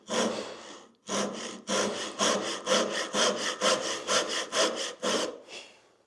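A Japanese dozuki back saw cuts wood along a marked line in a dozen or so even, rhythmic strokes. A longer first pull is followed by quick regular rasps, close and clear, with no talking.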